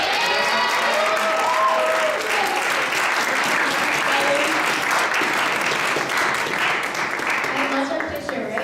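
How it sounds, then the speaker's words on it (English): Sustained audience applause at a CARP America presentation, dense and loud clapping throughout with some crowd cheering and voices mixed in, slowly fading near the end. "Let's give that a round of applause"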